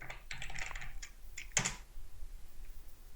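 Short burst of typing on a computer keyboard while entering a command, with quick close key clicks in a cluster, then a final sharper keystroke, quiet and alone against faint background hum.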